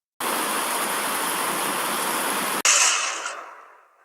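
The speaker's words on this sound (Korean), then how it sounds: "그때 먹구름이 몰려오더니 폭풍우가 몰아쳤어요" A storm at sea: a dense, steady roar of wind and rushing water holds loud and unbroken, then a sharp break leads into a hissing surge that slowly fades away.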